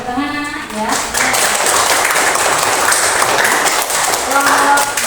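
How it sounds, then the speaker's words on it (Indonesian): Children in a classroom break into loud, dense clapping that runs nearly the whole stretch, with an adult voice speaking at the start and near the end. "Beri tepuk tangan anak ya"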